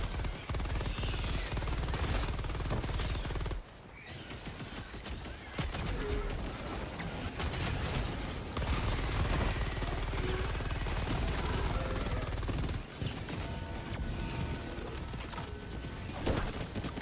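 The Stalwart machine gun fires in Helldivers 2, sounding as a loud, dense mechanical rattle of rapid shots that runs almost without a break and drops out only briefly a couple of times.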